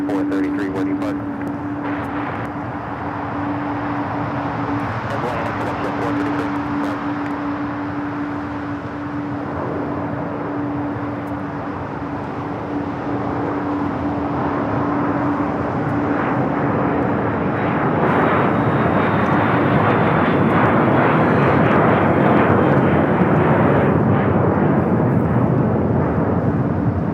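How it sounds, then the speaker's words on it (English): A Falcon business jet takes off at LAX, a steady engine roar that swells louder toward the end, with a commentator talking over it for much of the time. "Falcon is now rolling and up in the air"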